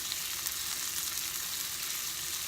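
Garlic hits a hot pan beside a browned filet mignon steak, giving a steady, even sizzle and crackle that carries on without pause, close and moderately loud, with no voices.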